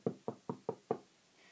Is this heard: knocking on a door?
yes